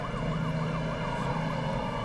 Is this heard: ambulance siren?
yes